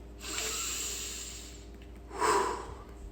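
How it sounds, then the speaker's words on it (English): Two audible breaths through the nose, a long airy inhale followed by a shorter, stronger one, close and quiet with no talking. "And then closing with a nice deep breath in"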